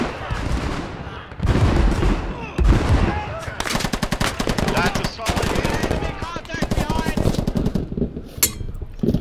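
Rapid automatic gunfire in Squad with Canadian Forces in a forest, dense loud bursts of rifle and machine-gun fire stacking into near-continuous rattles across the whole stretch, with a few heavier blasts early on.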